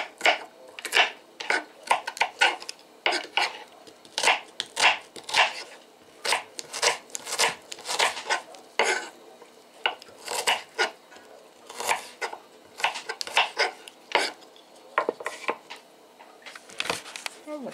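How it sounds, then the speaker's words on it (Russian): A knife taps sharply and repeatedly against a cutting board, chopping onion into cubes in quick irregular bursts, close and crisp, with someone speaking now and then. "Ну, вот так вот я режу лук"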